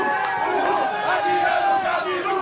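Stadium crowd chanting about Gabiru, a football player: a dense, loud mass of voices sustaining a rhythmic, sung chant throughout, with no individual talk on top.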